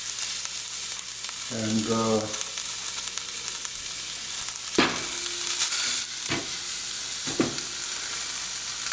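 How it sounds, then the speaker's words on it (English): Pork ham hocks fry in a pot on the stovetop with a steady, broad sizzle of rendering fat throughout, broken by a few sharp clanks and scrapes as they are moved. A single brief word is spoken early. "just put the ham hocks in there and get some fat out of them."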